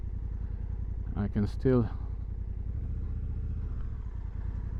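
A 2024 Honda Africa Twin with an automatic gearbox rumbles steadily and close at low engine speed while being ridden, a rider briefly talking over the continuous drone.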